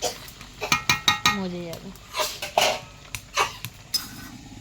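Metal pots and utensils clink and clatter sharply several times as a lid is set over a curry pot cooking on a wood fire, with someone speaking briefly between the knocks.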